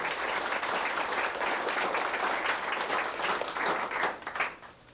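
Applause from a seated audience at a gathering of Stuhr family descendants, a steady wash of many hands clapping that holds for several seconds, then thins and fades near the end.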